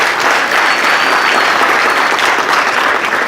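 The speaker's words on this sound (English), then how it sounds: "a round of applause" Loud, dense applause from a conference audience at the close of a talk on bots, a steady wash of many clapping hands filling the whole stretch with no speech over it.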